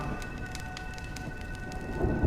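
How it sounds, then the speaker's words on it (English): Steady rain falls in Honkai: Star Rail, with a soft continuous hiss, scattered droplet ticks and a low rumble that swells near the end, fairly quiet and with no voices. "When will this rain ever stop?"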